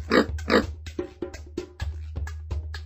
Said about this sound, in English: That's right! It's a pig!